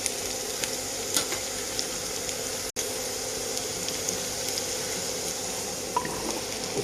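Carrot and mushroom cooking in a pan for mushroom cutlets give off a steady, faint hissing sizzle with a few small pops and crackles, heard alone.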